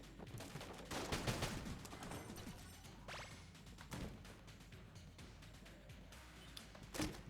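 Rapid gunfire in the bullet-hell dungeon game Enter the Gungeon: sharp snapping shots and whooshing projectiles scattered across the scene, fairly quiet overall with a few louder cracks standing out.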